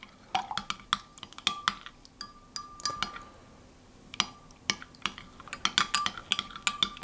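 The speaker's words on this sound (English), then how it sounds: "I'm going to just stir that round to help the yeast begin to" Spoon or whisk stirring a yeast mixture in a glass bowl so the yeast dissolves for brioche dough, heard as repeated light clinks and taps against the glass, close and fairly quiet.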